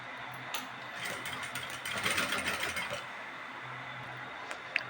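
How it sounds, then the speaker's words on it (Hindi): A sewing machine stitches a patiala salwar, its mechanical needle mechanism running in a steady rapid whir for several seconds, close and fairly quiet, with no talking. "तो चलिए पहले ऊपर यहाँ पे सिलाई लगा लेते हैं।"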